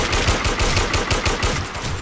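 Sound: AUG rifle gunfire in Warmode, video game

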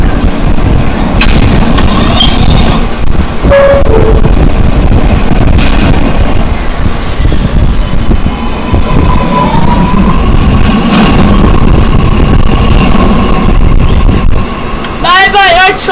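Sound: R211 New York subway train in the Roblox video game

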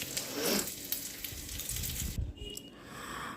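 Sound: dry fruits frying in ghee

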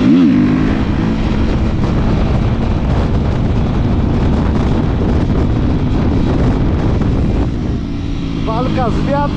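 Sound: wind blowing, wind noise on microphone

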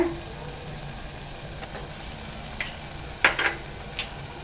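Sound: sautéing Malvani masala paste in oil

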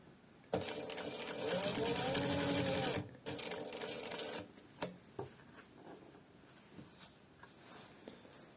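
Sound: Siruba L818F-M1A industrial sewing machine stitching

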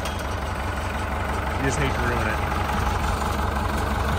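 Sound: IH 1468 V8 tractor engine idling

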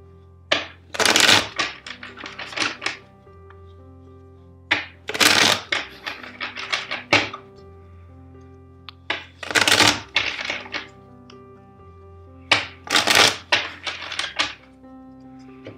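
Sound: shuffling tarot cards

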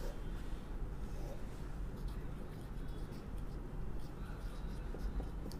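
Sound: writing on paper

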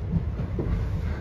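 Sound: passenger train running, Kashi to Ayodhya

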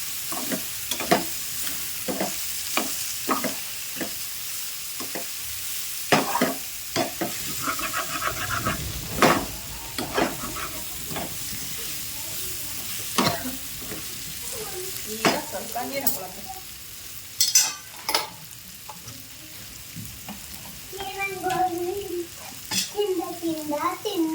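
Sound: frying brinjal with onion in oil

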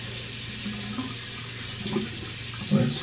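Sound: water running from tap while rinsing face

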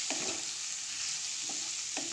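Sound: spices stirred and fried in a pan

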